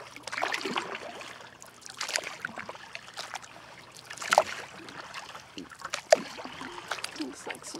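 A kayak paddles across a calm lake, with soft, intermittent paddle strokes, drips and gentle splashes close by. The sounds are quiet and spaced a second or two apart over a faint hum.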